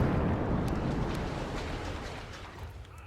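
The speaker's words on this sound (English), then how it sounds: "Look at that artillery, man" Artillery fire in the WARNO war video game makes a dense, continuous low rumble of blasts that stays loud throughout and fades slightly toward the end, with no voices over it.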